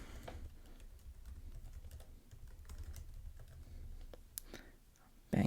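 Soft, steady keystrokes on a computer keyboard while Kotlin code is entered, typing continuously at a quiet level, with one sharper, louder click near the end.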